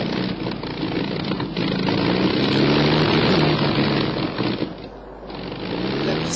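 An old propeller airplane engine cranks and catches, a loud steady droning roar with a rhythmic throbbing pulse that dips briefly near the end before picking back up, heard close with no talking.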